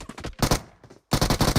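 Rapid automatic gunfire in PUBG Mobile, loud bursts of repeated shots separated by a short lull, then a second sustained volley, with no talk over it.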